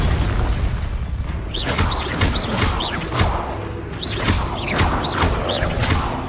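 Spell casts from Hogwarts Legacy combat, an ice spell and a fire blast, come in repeated bursts: whooshing swells with bright zaps, booming impacts and crashes layered over a constant rumbling battle bed, several hits in a steady run.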